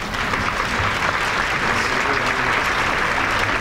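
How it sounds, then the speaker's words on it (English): Audience at a memorial breakfast honoring Dr. Martin Luther King, Jr. clapping hands together, a dense, steady round of applause that stays loud and even throughout with no talking over it. "go ahead and clap your hands."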